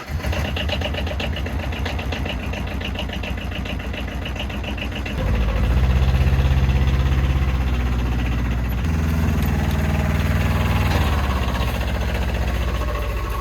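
An Arctic Cat Diesel 700 side-by-side starts with a rapid clattering crank, then settles into a loud, steady diesel idle with a knocking, vibrating rhythm that changes pitch slightly partway through.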